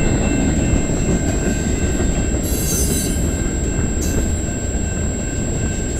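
CN freight train M397 rolls past on the Dundas Subdivision in London, Ontario, a steady loud rumble of railcars and wheels with two bursts of high wheel squeal partway through.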